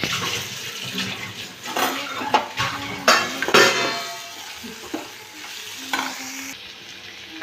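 Onions and tomato with salt sizzle in a hot pan while being stirred, giving a steady frying hiss broken by several louder scraping, clattering stirs, close up and with no talking.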